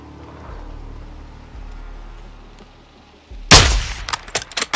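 A single loud sniper rifle shot in the shooter Call of Duty: Modern Warfare II, a sharp crack after quiet ambience, followed by a few rapid echoing impacts and rattles.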